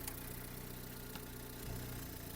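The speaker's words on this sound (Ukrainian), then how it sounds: "Так виглядає підкапотний простір, двигун працює гарно" An Opel Zafira car engine idles steadily with a low, even hum and faint rattle, close by, with no voices.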